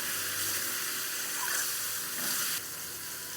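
Potato and bitter gourd sauté with cumin and coriander powder in a pan, giving a steady bright sizzling hiss that stays even before dropping slightly near the end, with no voices.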